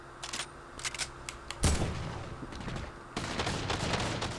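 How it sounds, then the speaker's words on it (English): Gunshots in the video game Fortnite crack in scattered single shots and short bursts, mixed with a heavy impact and rustling game effects, moderately loud and busy throughout. "Just gotta take your time with your shots."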